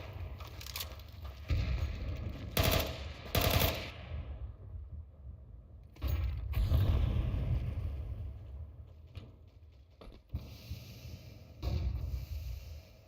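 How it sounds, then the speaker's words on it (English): Bursts of gunfire in Counter-Strike 2 come in several short volleys with pauses between them, moderately loud, with some low rumbling impacts in the mix. "Shots out there in the wild though."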